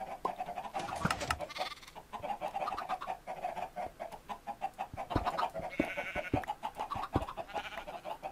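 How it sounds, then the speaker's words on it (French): A baby sheep in Minecraft bleats among other farm animals, with repeated short calls and clicky game noises over a steady busy background. "On a un bébé mouton."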